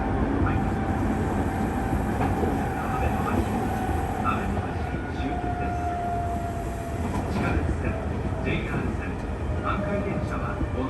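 A Kintetsu Minami Osaka Line train runs along elevated track in Osaka, a steady continuous rolling rumble of wheels and carriage heard from inside, with a faint tonal whine and occasional clicks.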